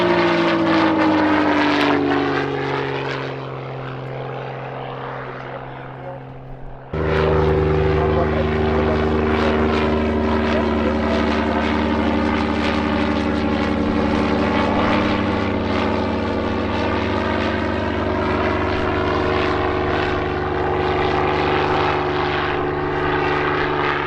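A propeller aircraft making turns at the Middelburg airshow in Mpumalanga, South Africa: a loud, droning engine whose harmonic pitch sweeps up and down, dips briefly, then surges back close and strong.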